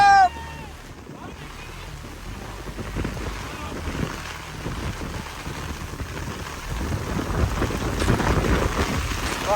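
Heavy, dangerous rain pours down beside a pond in a jungle, a dense steady roar that grows louder toward the end, with wind buffeting the microphone.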